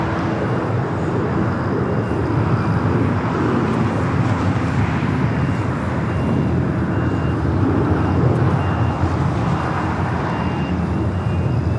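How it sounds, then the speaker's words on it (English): A United 787-10 Dreamliner airliner landing at LAX on the north side, a steady, broad jet roar that holds loud and even from start to finish with no talk over it. "United 787-10 Dreamliner landing on the north side."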